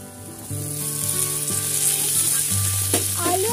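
Potatoes and okra fry with onion and green chili in a pan, giving a loud, steady sizzle with a constant hiss and stirring scrapes near the end.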